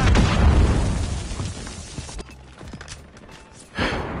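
Rocket launcher blasts in a Modern Warfare 3 multiplayer match: a loud explosive boom with rumbling decay, a quieter stretch of scattered pops, then another sharp burst near the end.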